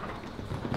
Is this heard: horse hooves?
yes